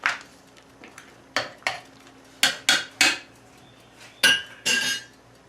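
A spoon clinks and scrapes against a brewing pot as Simcoe pellet hops are stirred into red IPA ale wort. The knocks come close and sparse in short irregular bursts, with no talking.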